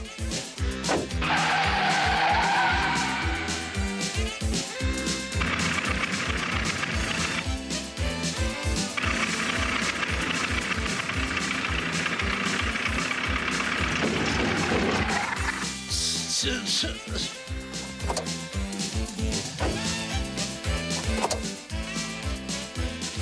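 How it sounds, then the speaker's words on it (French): A car skids with repeated tire squeals over a running engine, loud and close, in a French-dubbed episode of the series BCBG; the squealing comes in long bursts across the whole stretch. "J'entends une voiture, mais je n'en vois pas."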